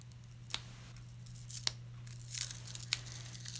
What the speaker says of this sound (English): I'll just peel up the foam